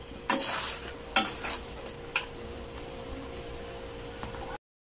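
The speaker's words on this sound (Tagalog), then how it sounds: "Patutuyuin ko yan sa sarili niyang katas bago natin iluto sa butter and garlic." Crab and shrimp cooking dry in their own juices in a pan, a steady close sizzle punctuated by a few sharp clicks and scrapes of stirring, then an abrupt cut to silence.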